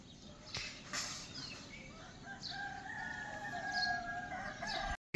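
A rooster crows at dawn on a village rooftop, with the long drawn-out crow rising clearly in the middle of the clip over a steady bed of distant birdsong and morning ambience.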